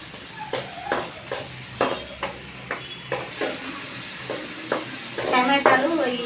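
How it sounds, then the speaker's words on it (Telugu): Ingredients for chicken curry, with tomatoes and ginger among them, fry in hot oil with a steady sizzle. Repeated scraping stirs sound close by, and the frying grows louder and hissier toward the end. "ఇవన్నీ బాగా మెత్తగా వేగిపోవాలి."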